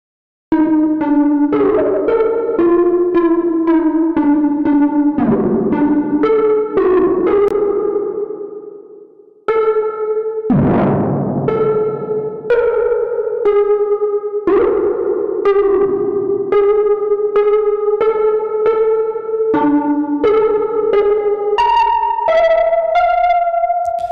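Synthesized tones from a Cherry Audio Voltage Modular patch, with a ringing, echoing, effect-laden character, play in a continuous sequence of pitched notes, loud and steady with one brief pause.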